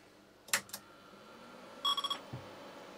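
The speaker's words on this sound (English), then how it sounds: "I've got a beep from the computer" Two short electronic beeps from an Apricot XEN-S computer at power-on, clear tones near 1 second into the clip, followed by a brief thump; quiet room otherwise.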